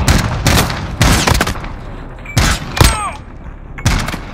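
Rapid gunfire crackles in a Call of Duty: Modern Warfare 2v2 match, loud sharp volleys in irregular bursts with short gaps, some shots ringing off with a brief metallic whistle.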